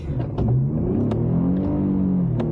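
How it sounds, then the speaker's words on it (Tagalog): A car engine revs hard while stuck in thick snow in Vancouver, a close, loud droning whine that rises and falls in pitch as the wheels strain, with brief knocks over the steady roar. "umiiyak yung makina"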